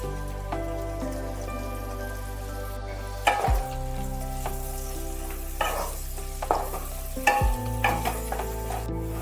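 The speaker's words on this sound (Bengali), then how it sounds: "এবার কেটে রাখা পেঁয়াজগুলো এর মধ্যে দিয়ে দিচ্ছি।" Chopped onions fry in a little oil in a pan, giving a steady dense sizzle with occasional clinks and scrapes as they are stirred.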